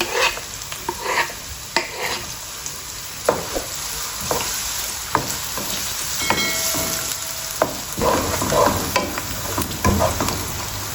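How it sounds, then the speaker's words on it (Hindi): Onions sizzling and crackling in a hot pan, with steady frying hiss, scattered pops and occasional stirring scrapes close by; no speech. "अब इसमें प्याज डाल देंगे।"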